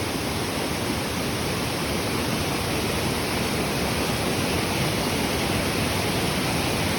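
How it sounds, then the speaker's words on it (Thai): Loud, constant roar of a waterfall swollen after fresh rain, Krathing Waterfall in Khao Khitchakut National Park, Chanthaburi, Thailand, a dense unbroken wash of rushing water close by with no voices. "มาดู น้ำไหลแรงมาก"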